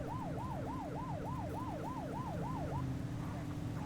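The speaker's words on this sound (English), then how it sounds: "Kill the siren." A police car siren in the video game The Precinct wails in a fast, regular up-and-down pattern over a low traffic rumble, then cuts off after a few seconds.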